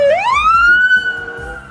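A police patrol car siren sweeps sharply upward and then holds a loud, steady wail, close and clear over faint background noise.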